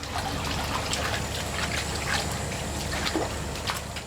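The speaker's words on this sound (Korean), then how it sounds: "이제 면을 5분 정도 삶아 재빨리 찬물에 고루 헹궈내야 하는데 이것은 면발의 탱탱함을 유지하기 위함이다." Boiled soba noodles being rinsed in cold water, a steady trickle and splash of running water with small drips, close and continuous, no voices.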